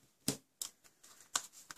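Large scissors slice through a neat stack of cardstock for a masculine handmade card, giving three sharp, close crunching snips spaced about half a second apart with a softer rustle between.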